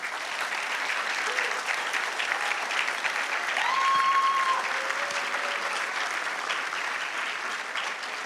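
Sustained audience applause and clapping from a large crowd, even and continuous throughout, swelling slightly near the middle, with a few whistles and cheers rising above the clapping.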